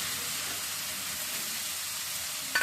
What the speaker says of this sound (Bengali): ফোড়নটা আরেকটু ফুটে উঠুক